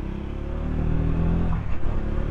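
A Triumph Scrambler 400X motorcycle pulls away with a close, loud engine note that rises smoothly as the throttle opens, mixed with wind rumble.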